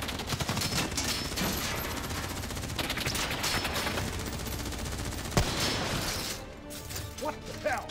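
Dense, continuous gunfire and automatic bursts from the shooter video game Black Ops 3 fill the scene, with a sharp crack near the middle, mixed under combat noise and voices.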